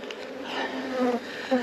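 Honeybees buzz around an open hive during honey extraction preparation with bee escapes, a close, steady droning hum with individual bees' pitches rising and falling across the brief moment.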